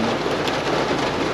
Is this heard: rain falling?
yes